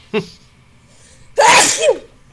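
A short catch of breath, then a single loud, close sneeze, with no talking.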